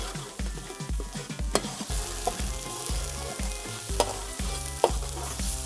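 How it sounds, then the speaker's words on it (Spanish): A sofrito of tomato, pepper, garlic and onion frying for traditional black rice, a continuous sizzle under brisk, regular stirring strokes with occasional sharp utensil clicks, close and fairly loud. "sofreiremos bien el tomate y lo que es el pimiento, el ajo y la cebolla, hasta que quede bien reducido"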